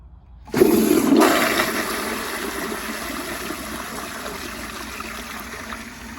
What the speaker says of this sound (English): like always, let's give this thing a flush